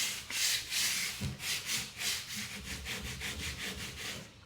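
Hand sanding on a finished wooden reception desk, a steady run of rhythmic back-and-forth rasping strokes, close and fairly loud, with no talking.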